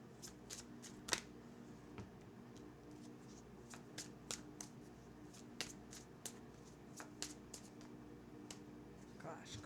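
Tarot cards being shuffled by hand, a steady run of soft papery flicks and taps at low volume over a faint constant background hum.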